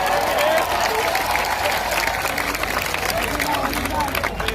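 A crowd claps in a dense, sustained burst of applause, fairly close and loud, with some audience murmur mixed in.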